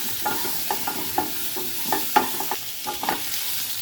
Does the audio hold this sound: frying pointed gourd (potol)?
yes